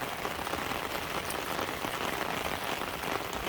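Steady midday rain falling over rice paddies, a dense, even hiss of drops hitting water and ground with no pauses, fairly close and continuous throughout.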